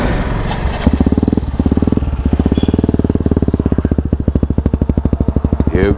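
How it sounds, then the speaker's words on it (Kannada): A Hero Xpulse motorcycle fitted with a Norifumi Noctus T5 exhaust starts up and idles with a loud, close, rhythmic thumping exhaust pulse that quickens into a rev near the end. "ಇಲ್ಲೇ ಒಂದು ರೆವ್ ಕೊಡ್ತೀನಿ ನೋಡಿರಿ ಸ್ಟಾರ್ಟಿಂಗೆ."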